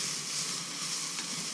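Two medium onions fry in a little oil or Fry Light in a pan on the stove of a narrowboat galley, giving a steady, close, even sizzle with no talk.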